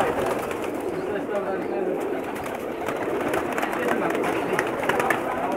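Teddy pigeons coo in a large, crowded loft holding thousands of birds, a dense, continuous murmur of overlapping calls with a voice talking over it.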